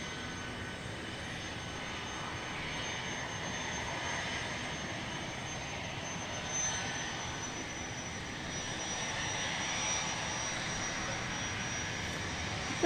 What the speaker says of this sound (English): That 717 is revving up over behind me.